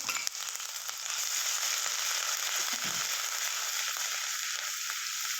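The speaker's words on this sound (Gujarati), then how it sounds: "હવે આ તેલ થઈ ગયું છે, એમાં ½ ટેબલ સ્પૂન જેટલું આદુ મરચાંની પેસ્ટ નાખશું।" Ginger-chilli paste sizzles in hot oil for a Gujarati vegetable Manchurian, a loud steady hiss with crackle that starts abruptly and holds unbroken, close to the pan and alone.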